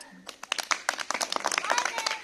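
Children clapping in a classroom during a Krishna and Arjuna story lesson, a brief burst of scattered, uneven claps from several small hands, close by, with a voice calling out over them.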